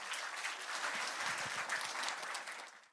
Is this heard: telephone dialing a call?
no